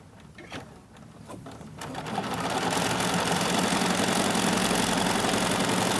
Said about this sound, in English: the first thing I'm going to do is allow the machine to stitch my placement line